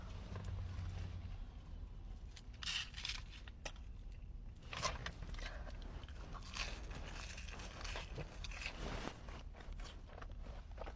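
Someone bites into a Wendy's french fry dipped in mango habanero sauce, with faint crunchy bites and soft chewing set against low background noise.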